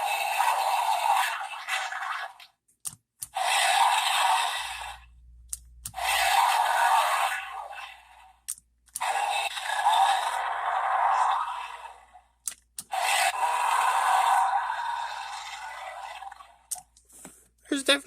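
A Mattel Jurassic World Dino Trackers Wild Roar Irritator dinosaur toy (2023) plays a series of loud electronic roars and growls in separate bursts, divided by short silences and clicks of the toy being handled.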